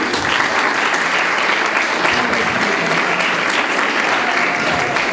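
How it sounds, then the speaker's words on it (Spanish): A school graduation crowd at Colegio Camelot claps for Mexican inventor Manuel Gutiérrez Novelo as he is introduced. The applause is loud, dense and unbroken for the whole stretch, close and full. "un fuerte aplauso, por favor"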